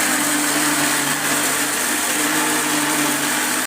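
A mixer grinder runs at full speed, grinding greens, mint, ginger and garlic with a little water into masala, giving off a loud, steady whirring roar for several seconds.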